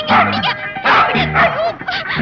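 A dog barks repeatedly in a loud, close series of sharp yaps during a Tamil film scene, mixed with music or voices.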